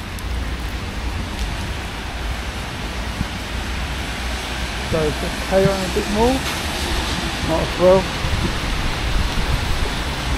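Steady rain falls outdoors in a soft, even hiss, with someone talking briefly partway through.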